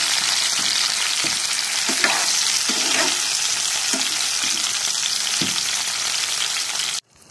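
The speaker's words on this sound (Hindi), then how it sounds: "अब इसमें हम टमाटर और हरी मिर्चें 3 काटी थी वो डाल देंगे, अच्छी तरह से इन्हें नरम कर लेंगे।" Chopped tomatoes and green chilies fry with browned onions for achar gosht, a loud, bright, continuous sizzle with intermittent spoon scrapes from stirring, ending abruptly.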